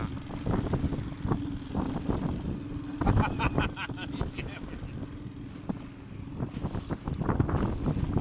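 Waves and gusting wind batter a small fishing boat on open water in a storm, with repeated splashes and thuds against the hull over a constant roar of wind noise on the microphone.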